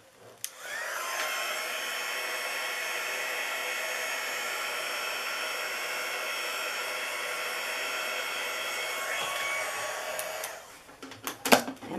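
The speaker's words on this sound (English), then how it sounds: "And then I'm just going to dry it with the heat tool real quick." A heat tool blows steadily to dry alcohol ink on acetate, a loud, even whooshing hiss that runs unbroken for about ten seconds before cutting off, followed by a few faint handling clicks.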